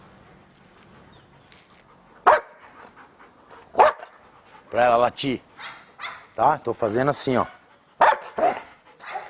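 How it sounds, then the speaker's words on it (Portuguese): A dog barks on command a few times in short sharp bursts, close by, with a person speaking between the barks. "Pra ela latir."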